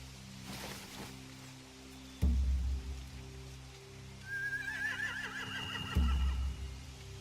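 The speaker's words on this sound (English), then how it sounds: "They have horses." Video game horse whinnies, from Walking Dead: The Final Season, rise and wobble faintly in the distance over steady rain, with two heavy low thumps punctuating the scene.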